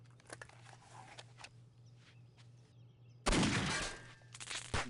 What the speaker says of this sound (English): Whoa, gunshot, dude.